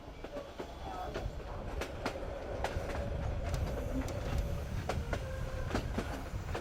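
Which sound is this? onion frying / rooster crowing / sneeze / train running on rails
train running on rails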